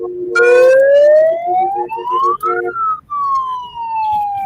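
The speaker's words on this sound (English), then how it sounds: "Okay, I'm going to go with my siren." A siren wails with rising and falling tones at a kindergarten parade, loud and close, while background noise and voices carry on underneath.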